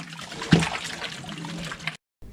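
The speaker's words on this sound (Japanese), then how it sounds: "そしてあとはこれを2、3回洗います" Water sloshes and trickles as vegetables are rinsed by hand for kimchi, a soft continuous splashing close by with one brief louder splash, then a cut to near silence.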